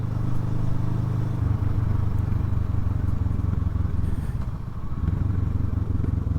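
A 2007 Kawasaki ER6N motorcycle in its unrestricted 72-horsepower form, ridden with a steady, loud engine drone and road noise throughout, easing briefly near the end before rising again.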